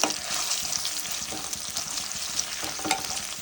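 Ginger garlic paste sizzles with fried onions and green chillies in a pan, a steady close crackle broken by several scraping stirs of a spoon.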